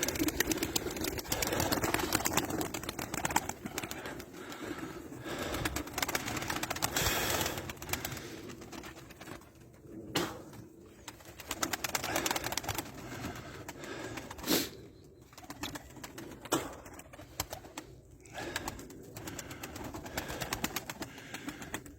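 Domestic pigeons coo and flutter outdoors while snow falls, amid steady background noise, with occasional wing flaps and soft calls continuing throughout.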